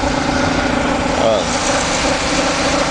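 A Ford Escort engine fitted with a Mikuni motorcycle carburetor runs at a steady, smooth idle close by, a constant hum with a faint brief whine partway through.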